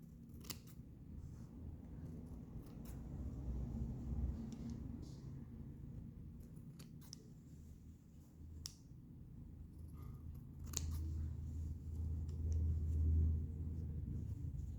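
Scissors snip away excess fabric at the seam corners of a child's dress being sewn, a series of faint, scattered crisp clicks over a steady low room rumble.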